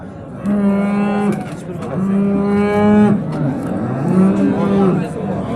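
A cow at the Kattakurgan livestock market moos three times in a row, long and loud, close by, with faint background noise between the calls.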